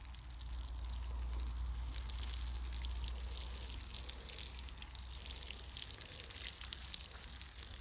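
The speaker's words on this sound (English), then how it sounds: "we can go ahead and water them once more" Newly seeded garden beds are watered with a steady, even hiss and patter of spray on soil that carries on without a break, fairly close and soft.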